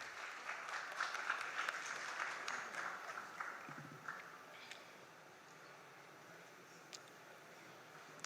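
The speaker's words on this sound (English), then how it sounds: "Please give them a round of applause." A crowd claps steadily for a few seconds, then the applause thins out and fades to scattered claps and room noise.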